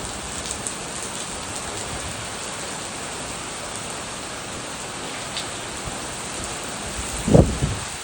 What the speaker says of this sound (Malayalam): ഇതാ മഴ ശക്തിയായി പെയ്തുകൊണ്ടിരിക്കുകയാണ്